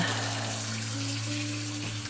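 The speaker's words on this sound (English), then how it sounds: "So I'm gonna turn that water back on" Tap water running steadily in a craft workspace, a close continuous splashing hiss with a low hum underneath, alone for about two seconds.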